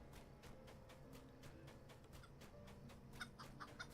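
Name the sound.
chickens clucking in video game Lord of the Rings Online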